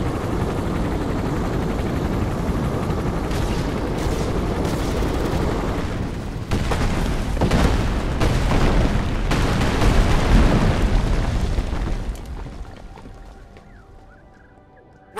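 Airstrike explosions in James Cameron's Avatar video game: a sustained loud roar with several heavy booming blasts in the middle, rumbling on before fading away near the end.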